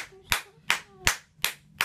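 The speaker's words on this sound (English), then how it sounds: "I'm gonna clap over here" Five sharp, evenly spaced hand claps ring out close by in a quiet room, each a crisp single burst roughly every 0.35 seconds, used to catch a three-month-old baby's attention.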